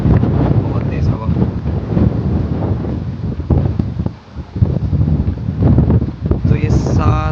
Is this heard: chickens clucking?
no